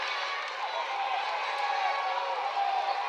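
A stadium crowd at a women's under-20 football match cheers for the host nation, the Dominican Republic, as a steady, broad roar with no breaks, heard from a distance under commentary.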